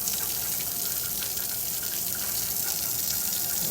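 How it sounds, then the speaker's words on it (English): Hot water gushes steadily from the drain valve of a 1904 Ruud instant water heater, a continuous close, loud hissing rush with no talk over it. "Right over here is a little drain valve. Let me open that so y'all can see the steam."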